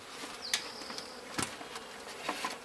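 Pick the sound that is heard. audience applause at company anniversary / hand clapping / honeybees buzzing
honeybees buzzing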